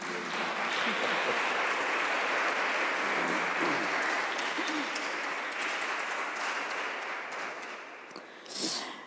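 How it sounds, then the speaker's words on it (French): An audience applauds at the end of a French-language talk: a thick, continuous wash of many hands clapping that holds for around nine seconds and then thins out near the end. "je vous laisse, si vous voulez applaudir"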